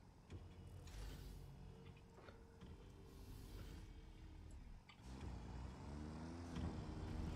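A tractor engine drives along in the video game Satisfactory, a steady mechanical rumble that holds loud throughout and swells slightly toward the end.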